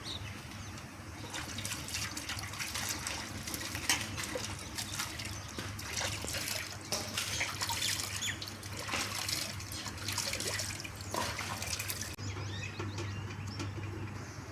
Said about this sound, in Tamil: பொடலங்காயை கழுவி எடுத்துக்கலாம்.